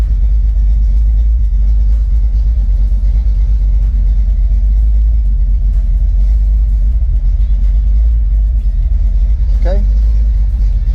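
A Ford Mustang Foxbody engine idles steadily during a base idle reset, a loud, constant low rumble close by with no change in pitch, and a brief faint chirp near the end.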